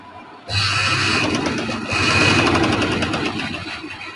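A sewing machine stitches along a thin piping cord, starting abruptly and then running as a continuous close, loud mechanical whir with a fast rhythmic ticking.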